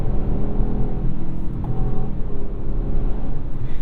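A 2021 Jaguar XF cruises at high speed, a steady low engine and road rumble heard from inside the cabin with a faint rising tone and no talking.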